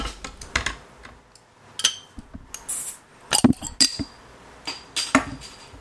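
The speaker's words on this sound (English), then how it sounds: "that was me opening a bottle of beer" A beer bottle is opened with scattered glassy clinks and taps, a sharp metallic cap pop and a brief hiss, followed by several more clinks and knocks at close range, with no one talking.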